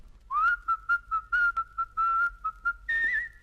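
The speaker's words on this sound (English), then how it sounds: "She didn't hear the kitchen door creaking open, or even Button's cheerful little whistle." A cheerful whistled tune, bright and clear, in a run of short and held notes that ends on a higher sustained pitch, with no other sounds.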